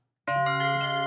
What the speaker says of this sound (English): Chakra Bell.